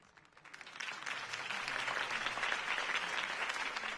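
A crowd applauds after a campaign speech in Batman: The Telltale Series, swelling quickly from quiet into sustained, even clapping from many hands that holds through to the end.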